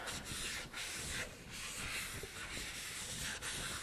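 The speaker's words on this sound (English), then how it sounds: "I just take a magic eraser and go right around the rim." A magic eraser rubs around the rim of an epoxy cup, producing a close, soft, continuous scrubbing hiss with small rhythmic pulses and brief pauses, faint and without talk.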